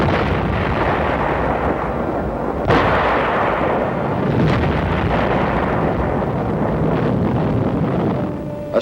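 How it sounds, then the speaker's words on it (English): Big artillery guns fire on enemy positions during the Korean War drive on Seoul, with heavy booms and sharp blasts over a constant rumbling roar like old newsreel combat sound, loud and sustained with no talk. "The big guns let go on commie positions."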